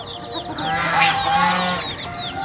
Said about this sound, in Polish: Zobaczcie, jak pani gęś wychodzi z siedzenia, jak tylko na chwilę. Od razu się nawołuje.